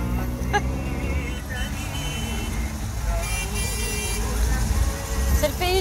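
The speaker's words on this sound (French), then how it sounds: "C'est le pays du klaxon." Rush-hour traffic in Bombay, dense with cars, buses and trucks, rumbles steadily while several car horns honk in short, overlapping toots at mid distance, with voices chattering underneath.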